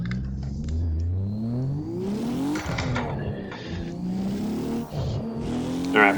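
A drift car engine in a sim racing game at Okayama revs and shifts through repeated rising and falling sweeps, steady and close, with no voices over it.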